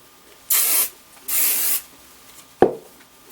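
Two short, close bursts of hairspray hiss from a can, followed by a faint tap, with quiet room tone between.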